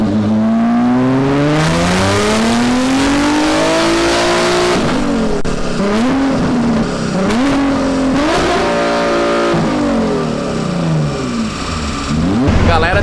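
A twin-turbo Nissan 370Z engine with 296 wheel horsepower revs loudly and repeatedly, its pitch sweeping up and down, close by and continuous.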